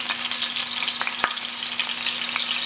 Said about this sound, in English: I'm just going to put some ginger and garlic in here and let this kind of cook up just a little bit, making sure that it's not going to burn